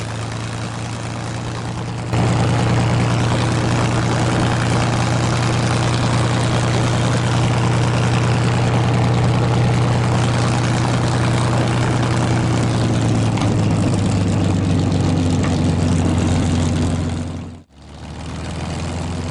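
A P-51 Mustang taxis with a steady, loud, deep propeller and piston engine drone that steps up in power after a couple of seconds, holds, then cuts briefly near the end.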